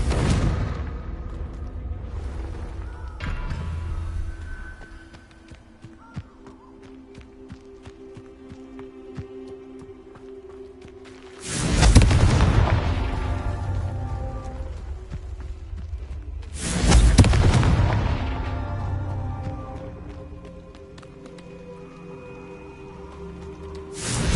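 Two booming blasts from the Confringo fire spell in Hogwarts Legacy, each a sudden loud burst that rolls off over a couple of seconds, set against quieter footsteps and ambient game sounds.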